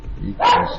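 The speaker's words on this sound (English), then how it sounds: "That's my dog." A dog gives a single short, sharp bark close by, overlapping someone talking.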